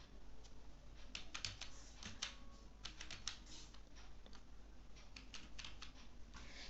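Computer keyboard keys pressed while entering sales data in Tally accounting software, giving irregular clusters of crisp clicks over a steady hum, with no talk.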